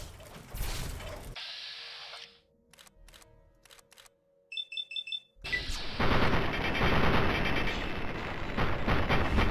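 Enemy gunfire in the video game Fallout 3, with sharp shots and bursts around a loud stretch of game noise, then a quiet gap with mechanical clicks and short beeps before dense, heavy noise returns.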